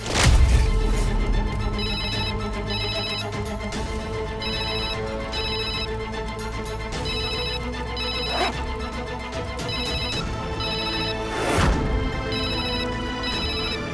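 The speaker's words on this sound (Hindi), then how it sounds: "सुजाता का फोन आ रहा है।" An electronic phone ringtone chimes in repeating bursts over a loud, full musical backdrop, with a couple of sharp hits cutting through.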